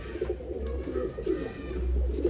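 A pigeon from a pair offered for sale in Bangalore gives repeated soft, throaty coos, close by, over a low background rumble.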